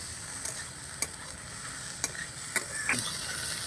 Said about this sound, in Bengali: ভালো করে মিশিয়ে নেব এখন কিন্তু উনুনের আঁচ একেবারেই বাড়ানো যাবে না